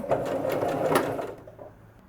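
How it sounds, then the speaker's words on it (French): A sewing machine with an ordinary presser foot stitches elastic onto fabric in a short loud burst of rapid mechanical whirring, then winds down and stops near the end. "Je place donc mon élastique sous mon pied presseur, c'est le pied presseur ordinaire. Et je commence à piquer."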